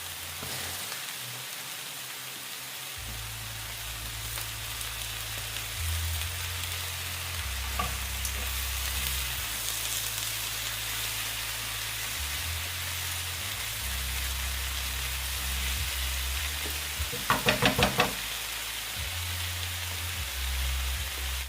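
Onions frying in a pan for an outdoor camping meal give a steady, soft crackling sizzle throughout, with low outdoor rumble underneath and a brief cluster of sharper crackles near the end.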